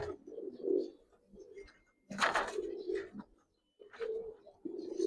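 Giribaz pigeons cooing close by in soft repeated throaty calls with brief pauses between, gentle and fairly quiet, no talk.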